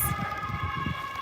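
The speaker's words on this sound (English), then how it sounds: "Oh, German sirens." A German emergency siren, distant and faint, holding a steady tonal wail beneath low wind rumble with no speech.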